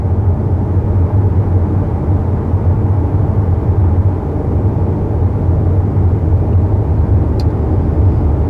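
Cabin drone inside a 2021 Honda Accord Touring 2.0T cruising on a highway around 55 mph, a steady low road and engine hum with light wind, constant and moderately loud without talk.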